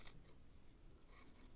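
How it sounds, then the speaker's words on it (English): Scissors trimming yarn strands for 4th of July tablecloth weights make two quick, faint snips close by, one at the start and one near the end, with quiet between. "Now I'm going to trim the ends with my scissors"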